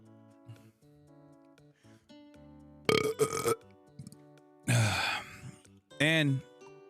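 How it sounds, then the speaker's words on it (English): A man lets out several loud, drawn-out burps directly into a close microphone, spaced apart between quieter moments. "the fact that I burp into the microphone"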